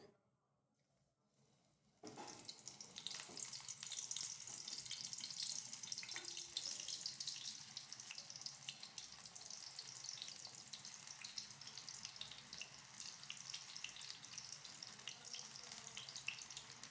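Spinach pakodi fry in hot oil, a dense, steady, hissing sizzle that starts abruptly after a quiet moment and carries on evenly at close range.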